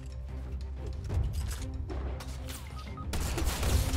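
Gunfire in a Fortnite Battle Royale match, including a sniper rifle shot, cracks out in bursts over a dense, busy game soundscape with sharp impacts spread across a few seconds.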